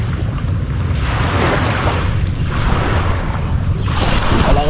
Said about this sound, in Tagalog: Wala kang ibang maririnig ba kundi yung ano, tunog ng alon, mga ibon.